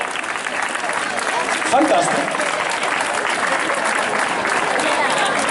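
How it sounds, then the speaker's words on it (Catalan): A large audience at a robotics presentation in Sant Celoni applauds the hosting institutions, with loud, sustained clapping from many hands while someone speaks briefly over it. "Aplaudiment també per a les institucions, sisplau"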